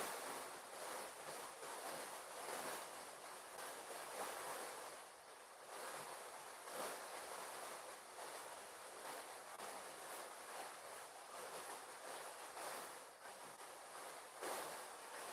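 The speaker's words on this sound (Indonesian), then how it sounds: "Airnya cukup deras nampak di" Strong, steady rushing of water pouring from a spout during morning rain, a continuous broad wash that stays fairly even throughout.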